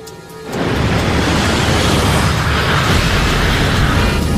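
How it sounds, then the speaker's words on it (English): A dramatized engine explosion on a Concorde at takeoff bursts in suddenly after a quieter moment, becoming a loud, sustained roaring rumble that stays heavy and continuous. "That sounded like some kind of explosion."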